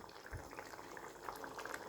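Faint bubbling and gurgling of water boiling in a pot for an egg and tomato curry, steady and close, with soft popping bubbles.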